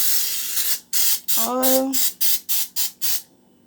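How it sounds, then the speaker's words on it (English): Repeated short hissing bursts from a cooking oil spray nozzle onto a pan, about eight quick pumps in a row, close up, with a brief voiced squeak in the middle. "Let me spray on some oil."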